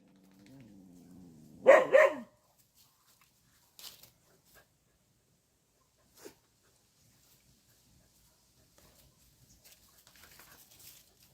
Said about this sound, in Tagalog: Ang aso ko ay mga makukulit.